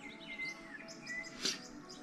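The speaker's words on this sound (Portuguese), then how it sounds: "Aqui você vai ouvir só o passarinho cantando" Small birds chirping and singing in green countryside on a rural property, with several thin, high calls and twitters scattered across a quiet, faint background.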